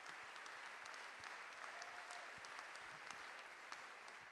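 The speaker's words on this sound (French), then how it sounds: "Est-ce qu'on peut les applaudir?" An audience at a prayer gathering applauds, a sustained, dense wash of clapping from many hands at a steady level throughout, heard from within the hall with no talk over it.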